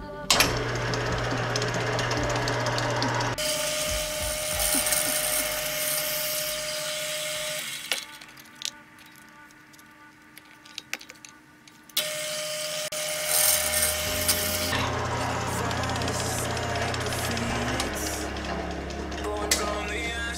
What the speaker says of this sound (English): Now just mark a hole dead center-ish on all of them and drill through.